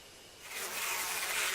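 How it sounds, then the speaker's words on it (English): Bees swarming in the horror adventure game Death Mark, a dense hissing buzz that swells after a quiet start and holds steady and close to the end, with no voices. "Bees!"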